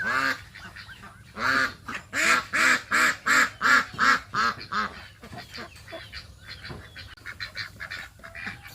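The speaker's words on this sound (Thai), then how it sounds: "พยายามจะมาอัดเสียง เป็ดตัวเมียให้ท่านได้รับชมนครับ" A female duck quacks loudly and repeatedly in a steady run of about a dozen calls, then softer, irregular quacks trail off, close to the listener.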